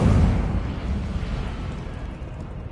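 Incendio fire spell in Hogwarts Legacy: a loud, roaring fiery burst that opens strongly and then settles into a sustained crackling rush, gradually fading.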